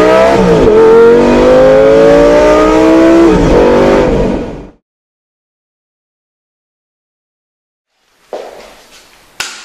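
A supercar's engine revs hard and loud for about four and a half seconds with rising harmonic sweeps, then cuts to silence before faint rustling and a sharp knock at the end.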